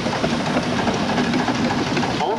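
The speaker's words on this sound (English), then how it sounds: "This particular Hornsby engine is just a single cylinder" A steady, rumbling mechanical chug of a single-cylinder Hornsby steam engine running at an even pace at a steam rally, with a low hum and dense broadband noise throughout.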